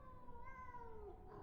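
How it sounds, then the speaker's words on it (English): A single drawn-out cat meow in the VR horror game Desolatium, rising and then falling in pitch, moderately near and clear over a low ambient rumble. "There's a cat somewhere."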